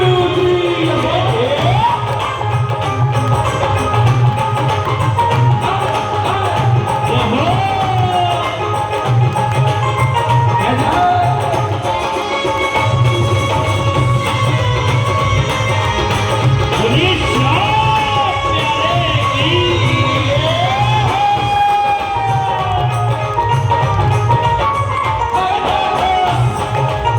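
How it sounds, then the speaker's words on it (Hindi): A large seated audience at a Shyam Baba bhajan gathering in Rajouri Garden, Patiala, claps and cheers together, a loud, sustained roar of crowd noise with shouts and whoops running steadily for the whole stretch. "अब जरा तालियां सुननी चाहिए आपकी"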